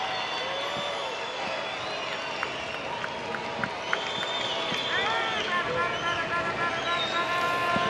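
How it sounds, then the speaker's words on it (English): At a baseball stadium, the crowd hums and cheers in the ninth inning of a Texas Rangers at Los Angeles Angels game, with the noise rising toward the end. A broadcaster talks over it. "Crowd starting to make some noise right now"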